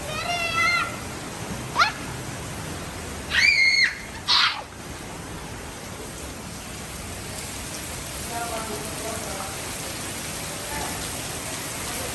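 Steady rain falls outdoors as a continuous broadband hiss through the whole stretch, while a cat meows several times close by and a few faint calls come and go over the patter.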